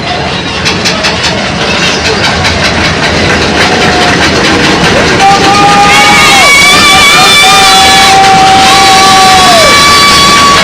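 A big crowd roars and murmurs in the stands at a high school football game in overtime, loud and sustained, with whistles and tones sliding over the din and a commentator talking.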